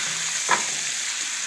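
Rabbit meat browns in a hot pan with a constant, even sizzle and hiss, with one brief utensil clink partway through.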